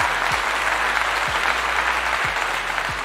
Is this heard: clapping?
yes